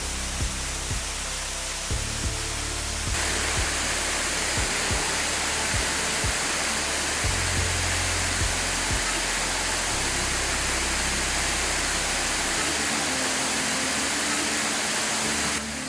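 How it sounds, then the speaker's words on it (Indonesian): Loud, constant roar of rushing water from a nearby waterfall in Biak, Indonesia, dense and unbroken for the whole stretch. "Indahnya aliran air yang deras, jernih dan menenangkan"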